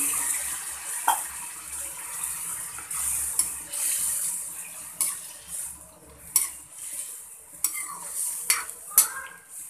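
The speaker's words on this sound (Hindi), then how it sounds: "और अब हम इसमें डाल देंगे पानी।" Water is poured into a pan of frying mung dal fritters, giving a rushing, sizzling wash of sound with clinks of a utensil against the pan that grow sharper toward the end, close up and without speech.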